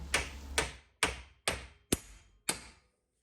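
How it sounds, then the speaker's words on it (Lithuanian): A mower deck bearing shaft being hammered in through a wooden block, six sharp blows spaced about half a second apart, each a close, solid knock that rings and fades quickly, with no voices. "o vat velenėlį jau tenka įkalti. Kalu per medinę kaladėlę, kad nepažeisčiau."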